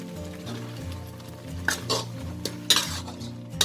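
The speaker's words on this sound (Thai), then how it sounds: "เราก็ผัดค่ะจนพริกสุกค่ะ" Chilies, shallots and kaffir lime leaves stir-fry in a pan for a roasted shrimp-paste chili dip. A spatula scrapes and clinks against the pan in repeated strokes over a steady close sizzle.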